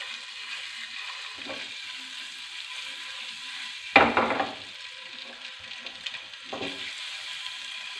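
Boiled eggs fry in oil with a steady soft sizzle, punctuated by a louder stir or clatter of a utensil in the pan and a few quieter scrapes.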